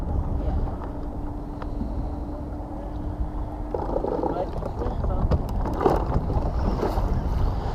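A fishing boat on Lake Austin pushes through lake swells with a steady engine rumble, water rushing against the hull and wind buffeting the microphone. Heavier slaps of water come partway through, and people talk and shout over it.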